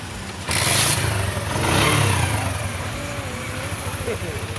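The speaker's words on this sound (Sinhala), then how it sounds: "අපි දැන් යන්නේ පල්ලෙහාට බයික් එකේ යන්නේ" Motorcycle engine droning steadily while riding to see Vesak celebrations, with wind rush over the microphone, a rise in revs partway through and faint voices under the steady engine noise.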